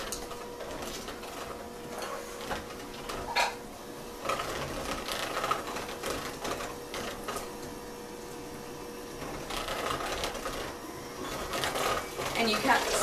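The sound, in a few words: electric mixer mixing cake batter on low speed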